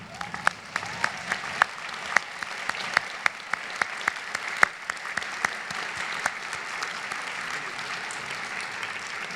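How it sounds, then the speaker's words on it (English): Sustained applause from a large crowd of dental school graduates at a commencement ceremony, a dense patter of clapping with a few sharper claps standing out, steady for about nine seconds. "give a round of applause for our biggest supporters"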